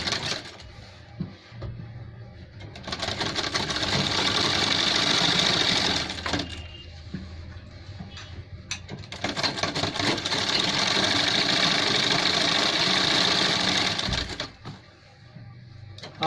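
A sewing machine stitches a gents shirt in two long sustained runs of steady motor whir, with a brief pause between them and a short quieter stretch at the end, close and loud.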